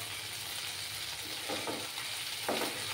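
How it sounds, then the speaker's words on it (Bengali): Ginger garlic paste frying in a pan, a steady close sizzle with a few brief stirring scrapes, no voices. "এই যে আদা আর রসুনের পেস্টটা দিয়ে দিচ্ছি, দিয়ে ভালো করে কষিয়ে নিতে হবে।"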